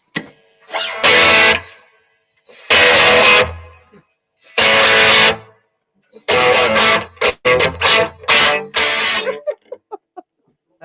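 Distorted electric guitar through a Blackstar amp's overdrive channel at low gain and high volume: several loud chords and choppy strummed bursts separated by short silences.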